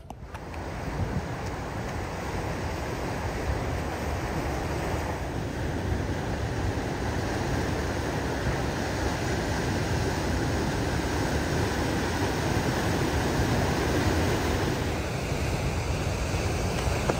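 Steady surf rolls in with wind buffeting the microphone at Waikoloa Beach, Hawaii, a continuous close wash of broadband noise with no talking.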